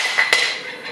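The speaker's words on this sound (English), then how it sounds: "that is the sound of a solid metal lens cap hitting the floor." A solid metal lens cap from a Leica Q typ 116 compact camera strikes a hard floor, giving one bright sharp clack with a brief rattle, close and alone over faint room hiss.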